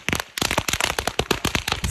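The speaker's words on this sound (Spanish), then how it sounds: "¡Mira cómo revientan esos cohetes!" Firecrackers burst in a rapid, irregular string of sharp, loud pops and cracks as a straw effigy is set alight, with no pauses between the bangs.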